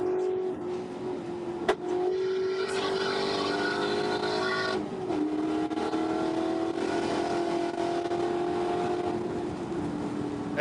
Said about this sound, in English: with still a lot of racing left to go here in the Spec Corvette series from Sonoma Raceway